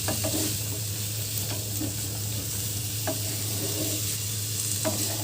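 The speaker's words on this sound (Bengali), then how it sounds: "হালকা ভাজা ভাজা হবে, যাতে মুখে করলে একটু ক্রাঞ্চি ভাবটা আসে ভেজিগুলো" Steady sizzling of beans and other vegetables frying in a pan, with occasional soft stirring scrapes and light clinks throughout; no voices.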